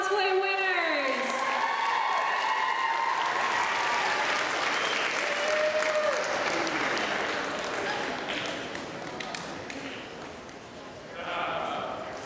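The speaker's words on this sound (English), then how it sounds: "One more round of applause for our Hall Cosplay winners." Audience at a San Japan anime convention cosplay contest awards ceremony applauding and cheering for hall cosplay winners, dense loud clapping with whoops that fades slightly near the end as a voice talks over it.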